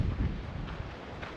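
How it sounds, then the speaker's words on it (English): Steady wind buffets the microphone at Namche Bazaar on the Everest Base Camp trek in Nepal, a low rushing roar that rises and falls without any speech. "Now it's very windy"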